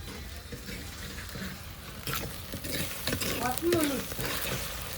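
Chicken curry fries in a pot over a wood fire outdoors, a constant loud sizzle with stirring scrapes that swell toward the end, close up, with faint voices in the background.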